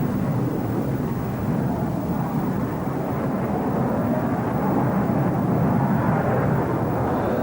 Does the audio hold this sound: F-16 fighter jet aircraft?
yes